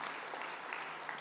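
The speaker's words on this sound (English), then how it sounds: "An applause for the gentleman here." Brief burst of audience applause at an indoor World Standards Day event, a steady patter of many hands clapping, moderately loud and alone.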